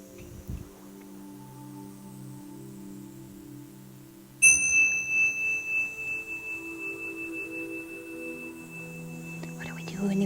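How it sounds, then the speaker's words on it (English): A bell rings once to open a children's yoga class, its clear, bright tone striking suddenly and then ringing out as a long, slowly fading shimmer over a quiet room. "So we're going to start with our bell sound."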